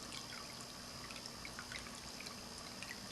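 A gentle water stream trickles from a glazed ceramic cat fountain, a soft steady burble with no splashing, faint and alone.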